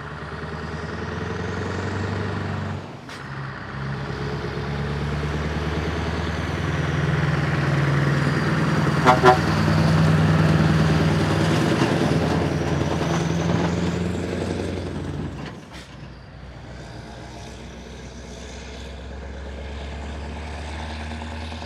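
A lorry engine that has not been running properly drones steadily at a close, loud idle for the whole stretch, with a brief clunk partway and a slight drop in level near the end, and no talk.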